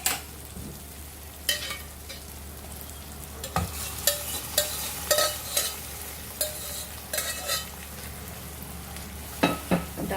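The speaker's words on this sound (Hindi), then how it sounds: "दाल को मसाले में अच्छे से मिक्स कर लेंगे" Chana and toor dal being stirred into frying masala in a pan, a soft steady sizzle under repeated scraping and clinking strokes of the spoon, with no voices.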